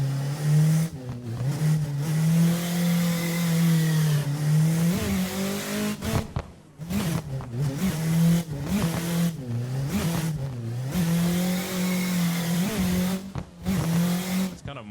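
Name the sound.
drift car engine revving with boost and clutch kick, video game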